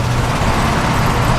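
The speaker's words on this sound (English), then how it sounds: "There's all the wind noise." Steady, loud wind roar fills the cab of a moving Ford project truck, a constant rushing drone with low road rumble beneath it.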